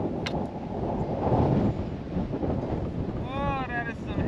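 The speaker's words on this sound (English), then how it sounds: "Oh, that is some heavy wind now." Heavy wind blowing across a golf course, buffeting the microphone in a loud, continuous low rumble with gusty surges, and a few faint bird chirps near the end.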